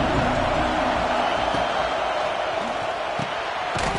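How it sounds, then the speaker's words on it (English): A steady stadium crowd roar fills NCAA College Football 26 gameplay, a dense, loud wash of noise that holds throughout with a few sharp peaks, under a commentator's voice. "This crowd bringing the energy and noise early."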